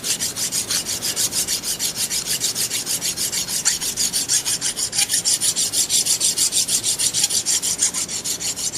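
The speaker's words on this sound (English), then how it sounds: "you'll take your middle mill file" A mill file rasps rhythmically across a steel tattoo frame, steady back-and-forth strokes repeating fast and evenly, close and bright with a harsh metallic hiss, with no talking.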